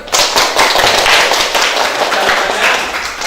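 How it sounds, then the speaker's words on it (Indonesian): A classroom of students claps hands together, loud and close, with a burst of uneven, crackling claps that continues steadily and eases slightly near the end. "Tepuk tangan."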